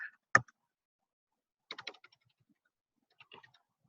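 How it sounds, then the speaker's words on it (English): Computer keyboard keys tapped in a few short bursts of clicks, with a sharper single knock near the start, quiet and close in an otherwise silent room. "I can't type."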